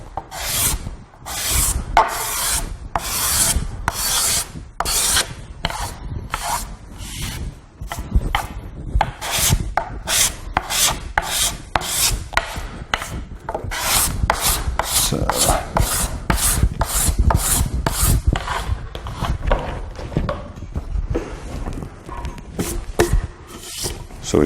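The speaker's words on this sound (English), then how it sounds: "Just a little bit of scraping to do." A wooden board scraped by hand with a coarse rasp-like tool, steady rhythmic strokes repeating close up, each a bright rough rub, continuing alone throughout with no talk.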